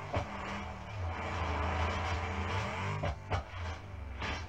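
Car engine in a driving video game test drive, a steady droning motor that rises and falls in pitch as it revs, with brief transient clicks, moderately loud and continuous without talk.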